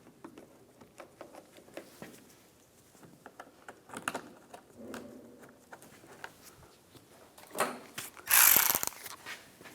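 Screws being started by hand into the side panels of a 2015-2019 Lincoln MKC front bumper, a series of faint, close ratcheting clicks and small mechanical taps with one louder burst near the end.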